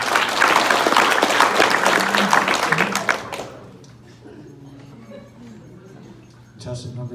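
Audience applause for a contestant at an after-prom hypnotist show, loud dense clapping for about three seconds that cuts off into quieter room murmur, with a brief swell of noise near the end.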